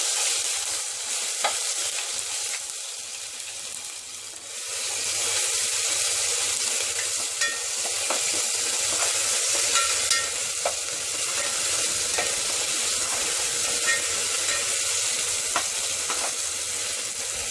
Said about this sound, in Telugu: వన్ స్పూన్ అల్లం వెల్లుల్లి పేస్ట్ అండి ఇంట్లో ఫ్రెష్గా చేసిన వెల్లుల్లి పేస్టు వేసుకొని ఒకసారి కలుపుకోవాలి